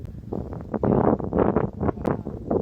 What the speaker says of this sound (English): So the wind is going, and even though the tent is secure